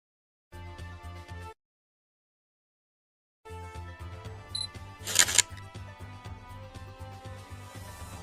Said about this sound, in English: search for the camera shutter sound